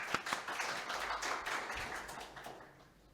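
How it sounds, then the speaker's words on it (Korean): An audience applauds to welcome a speaker at a session on domain name policy, with brisk scattered clapping that stays steady, then thins and fades toward the end. "환영의 박수 부탁드리겠습니다."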